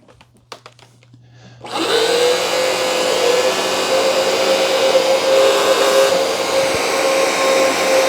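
A Hoover PowerDash Pet carpet cleaner starts up after a few faint clicks, then runs loudly and steadily with a constant motor whine and whooshing suction over carpet.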